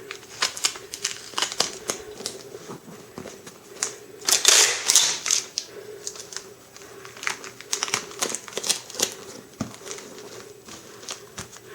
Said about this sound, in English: let's use some packing tape on the other side